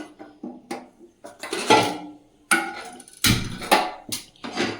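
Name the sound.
frying pan being put on the stove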